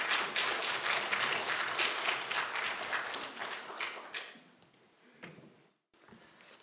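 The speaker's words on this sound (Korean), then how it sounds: "함께 박수로 환영하도록 하겠습니다." A church congregation claps to welcome a pastor; a few seconds of fairly faint applause fade into scattered claps and quiet.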